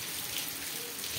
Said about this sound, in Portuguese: Muita chuva aqui em Jacaraú,